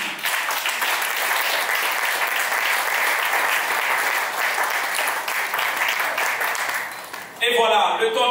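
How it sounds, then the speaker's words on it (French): Wedding guests at a traditional marriage ceremony applauding for their parents, a loud, dense roar of clapping filling the hall for several seconds before it cuts off and a voice comes in. "si on peut applaudir pour nos parents ici"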